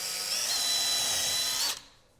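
An LC20 milling machine drills a small hole in a sheet with a steady, loud, high whine that holds evenly, then cuts off abruptly near the end.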